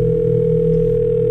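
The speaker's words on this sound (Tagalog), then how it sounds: "Biglang tumunog ang cellphone ko." A phone gives off a loud, steady electronic tone that holds unbroken and stops abruptly just before the end, with no voices present.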